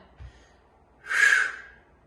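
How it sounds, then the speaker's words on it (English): A single forceful breath pushed out during a back and biceps weight exercise, close and breathy, swelling and fading over about half a second after a quiet pause. "Take an inhale, exhale"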